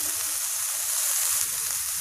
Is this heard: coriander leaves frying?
yes